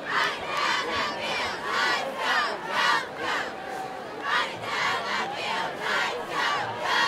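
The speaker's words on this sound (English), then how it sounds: "Great crowd as Spooler Stadium is just packed tonight for this game." Packed high school football crowd at Spuller Stadium roaring and chanting in rising and falling waves, loud and continuous throughout.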